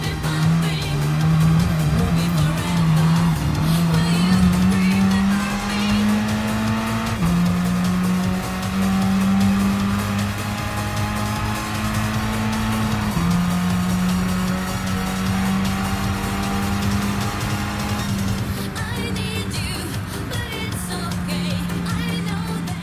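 Race cars in the video game Gran Turismo Sport, loud sustained engine tones that climb and drop through gear changes, with screeching tire squeal throughout.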